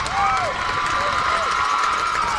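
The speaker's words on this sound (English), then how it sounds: "These fans have been waiting for something to cheer about, and now they have it." Baseball fans at a high school regional quarterfinal game cheering the Panthers' first hit of the night, a steady swell of shouting and whistling from the stands, loud and sustained throughout.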